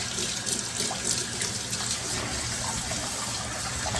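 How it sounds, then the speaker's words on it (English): Cold tap water runs steadily into a sink as peeled sweet potatoes are rinsed, a constant close splashing gush with no talking. "I'm going to rinse them in some cold water"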